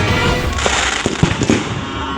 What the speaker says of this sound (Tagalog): Kinukunan lang ng video ang nagpuputokang fireworks na yan sa Barangay de la Paz, Antipolo City